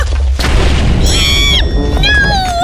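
A TNT cannon blasts in the Minecraft video game with a loud, close boom, followed by rising and falling synthetic game tones and effects filling the rest of the moment.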